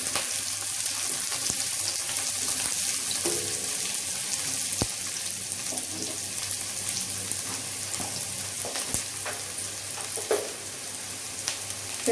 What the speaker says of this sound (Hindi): अब इसमें डालेंगे प्याज, इसको भी ब्राउन होने तक भूनेंगे।